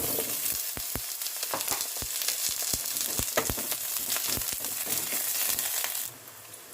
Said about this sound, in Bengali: এবার বেগুনগুলো ভেজে নেব।